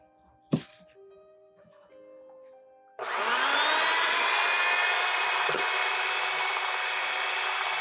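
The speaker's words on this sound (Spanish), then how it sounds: "así se batir la clara de huevo con azúcar para que esponje mejor el pastel" An electric mixer beats egg whites with sugar for a homemade Mother's Day cake, starting with a knock and faint rustling, then a sudden loud steady high whir that runs on without pause.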